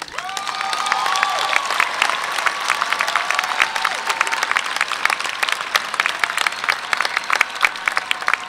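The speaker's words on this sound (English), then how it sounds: "let us recognize all those who have been honored today with one more round of applause" Graduation-style audience at a university honors convocation gives one more round of applause for the honorees, sustained close clapping with scattered sharp individual claps and faint cheers, holding steady throughout.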